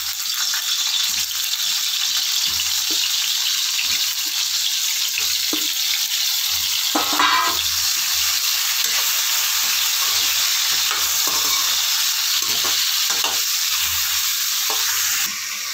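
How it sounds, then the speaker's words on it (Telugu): Bitter gourd pieces frying in two or three spoons of oil in a pan, a steady bright sizzle running throughout with occasional soft stirring knocks, close and even in level. "అదే బండిలో 2-3 స్పూన్స్ ఆయిల్ వేసుకొని కాకరకాయలు వేయించుకోవాలి."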